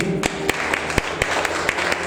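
A church congregation clapping together in a steady, even rhythm, about four claps per second, fairly loud and continuous throughout.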